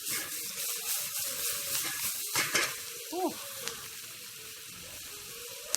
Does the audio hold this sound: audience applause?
no